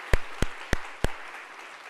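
At a 2021 marketing outlook meeting, four sharp, evenly spaced claps ring out close by against a quiet room hum, with no sustained crowd applause following.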